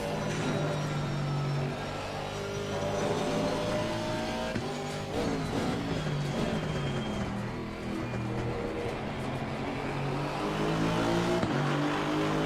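Aston Martin AMR V8 race car in Assetto Corsa Competizione, engine revving up and down through gear changes with rising and falling pitch sweeps, loud and continuous with no talk.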